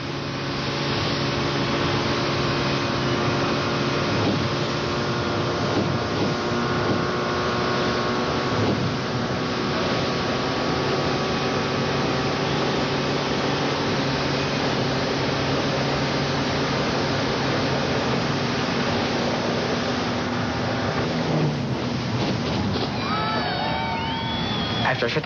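A steady, droning motorboat engine runs continuously at a constant pitch, loud and close, with a slight shift in tone near the end.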